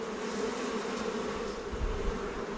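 Honey bees hum in a dense, continuous buzz around an open Flow Hive during an inspection, close and steady without any pauses.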